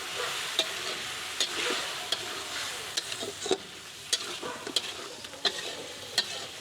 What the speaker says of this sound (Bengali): নাও আমি দিয়ে দিব হচ্ছে এই যে আদা রসুনের বাটা।